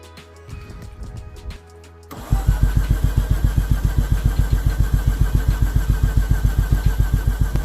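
A rotary engine in a Mazda RX8 race car fitted with a custom exhaust cranks briefly, then fires up and settles into a loud, rapid, steady pulsing idle close by.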